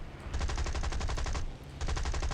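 Rapid bursts of machine-gun fire in the flight video game War Thunder over a constant engine roar, two rattling volleys separated by a short pause, loud and close.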